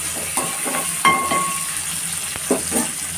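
Curry leaves frying in hot oil until brown, a bright crackling sizzle with several clinks and scrapes of a stirring spoon against the pan, close and alone.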